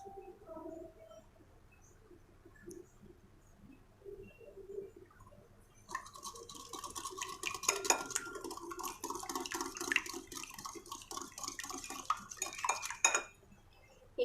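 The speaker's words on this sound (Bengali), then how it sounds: "এবারে এই ডিমগুলোর মধ্যে আমি 2 চা চামচ চিনি দিয়ে নিব এবং এটাকে ভালোভাবে মিশিয়ে নিব।" Two eggs and sugar for a pudding are whisked in a bowl, giving rapid, clinking metal-on-bowl strokes that start after a quiet moment and run for about seven seconds before stopping abruptly.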